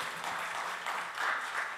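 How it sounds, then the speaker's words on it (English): A crowd at a disability awareness event gives a short round of applause, an even, moderately loud patter of clapping lasting under two seconds. "you can give a round of applause, that's fine"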